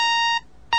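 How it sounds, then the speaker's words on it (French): An alarm clock beeps in a loud, electronic tone: one long beep, a brief gap, then the next beep starting. "le réveil va sonner très tôt"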